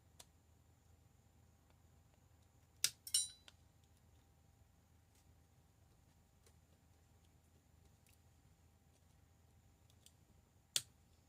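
A small stray piece of cured UV resin is trimmed off a cassette-tape tumbler topper: a few sharp, faint snips and clicks, a cluster early on and another near the end, in an otherwise quiet room.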